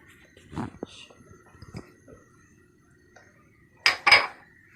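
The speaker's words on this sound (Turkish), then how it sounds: "Şöyle karıştırarak bunları da içine atıyoruz." A runny lokma batter being mixed in a bowl, with scattered light clinks and scrapes and then two sharper knocks close together near the end, close by.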